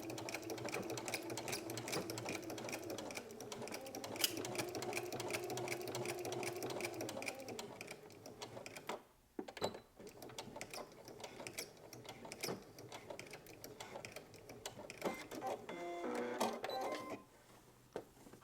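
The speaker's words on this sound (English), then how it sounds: "Then we're going to go to the sewing machine, and we're going to stitch from the outer edge to the inner edge." A sewing machine stitches a garment seam from outer to inner edge, a loud, rapid mechanical whir close up that stops briefly midway, then resumes with clicking and ratcheting near the end.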